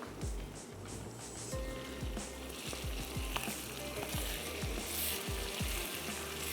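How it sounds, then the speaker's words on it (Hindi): Goat or chicken liver (kaleji) sizzles steadily in a hot oiled pan while a large spatula stirs it, scraping and knocking against the metal in repeated dull thuds over the continuous frying hiss. "स्टर करते चलते हैं कलेजी को भी।"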